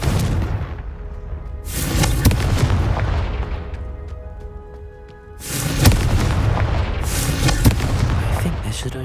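Confringo blasting spell explosions in the video game Hogwarts Legacy, two loud booming blasts with crackling debris tails, separated by a quieter stretch of ringing tones, close and forceful.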